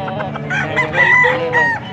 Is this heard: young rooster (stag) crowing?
yes